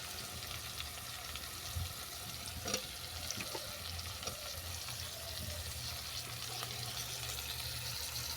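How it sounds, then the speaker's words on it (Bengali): Chopped tomato going into a pan of softened frying onions for a mocha chicken curry, giving a steady, moderate sizzle with light stirring scrapes throughout. "পেঁয়াজটা একটু নরম করে ভেজে নিয়েছি এরপর দিয়ে দিচ্ছি কুচানো টমেটো"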